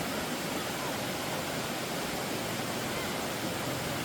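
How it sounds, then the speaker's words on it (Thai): A small waterfall in Laos pours over rocks, making a steady, close, broadband rush of falling and flowing water. It holds even and unbroken throughout with no voices. "ตาดเล็กตาดน้อยนี่ก็น้ำไหลไม่ชัดตัวน้ำไหล"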